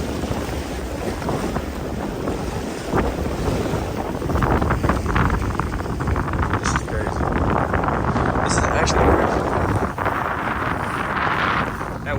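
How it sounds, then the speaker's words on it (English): Strong wind buffets the microphone on a jet ski out on rough, wavy sea in Turks and Caicos, a steady broadband roar with engine and water noise that swells louder after a few seconds, with voices speaking underneath. "Wind is blowing hella hard, so y'all probably not gonna be able to hear me for real."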